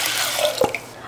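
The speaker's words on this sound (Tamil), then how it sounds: "பருப்பை கழுவிடலாம்." Toor dal lentils are washed in water in a home kitchen, giving a brief watery slosh with a few small splashes and drips. The sound is close and short, with no talking.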